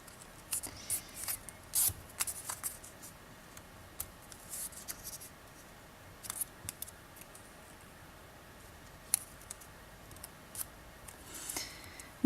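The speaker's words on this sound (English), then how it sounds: "I'm going to fold the piece to the flap stage." Sheets of paper being folded for 3D modular origami: sparse, soft crisp rustles and small clicks, close and quiet, with long near-silent gaps between them.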